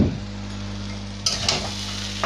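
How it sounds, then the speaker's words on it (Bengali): Ghee sizzles and crackles steadily in a hot pan while cooking prawns with banana flower, with a low hum underneath and a couple of stirring scrapes near the end. "চামচ ঘি দিয়ে দিচ্ছি।"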